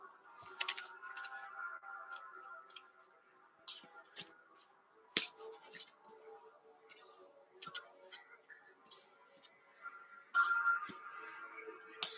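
A tarot card deck being shuffled, soft papery riffles and crisp clicks of cards in quick irregular bursts, close and quiet.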